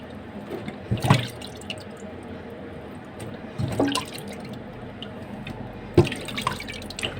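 Cow trotters are washed by hand under running water in a kitchen sink, with a soft continuous trickle and a few louder splashing handling bursts, close by and without speech.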